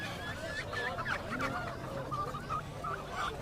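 Ducks and chickens at a bird market in Abu Araish, Jazan, Saudi Arabia keep up steady quacking, honking and clucking calls, moderately close, over a constant murmur of market background noise.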